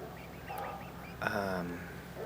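Two rescued backyard chickens give a single brief, harmonic squawking call partway through, fairly close, over a low steady background hum.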